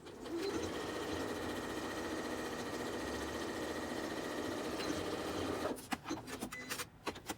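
A sewing machine runs steadily through a standard straight stitch at 5/8 inch on a 6-inch side, with a continuous whirring drone that breaks into short stop-start bursts near the end as the seam is back-stitched.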